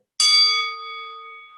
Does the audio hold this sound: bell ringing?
yes